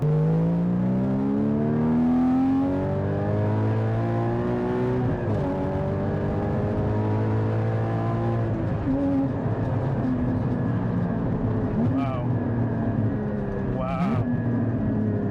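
A Porsche 981 Cayman GT4 sports car engine rises and falls in pitch as it revs and accelerates, loud and close throughout, with shifts between gears.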